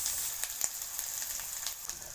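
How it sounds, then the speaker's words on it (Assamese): Spices frying in a pan, with turmeric added, while preparing taro leaves with fish: a faint, steady sizzle with a few soft crackles. "এতিয়া মছলাখিনি ভাজি লৈছোঁ।"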